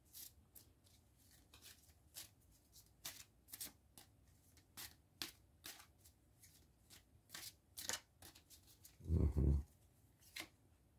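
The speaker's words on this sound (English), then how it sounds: "I'm going to shuffle those up for you." Cards riffle and snap in quick bursts, faint and close, with a louder ruffle near the end; no one speaks.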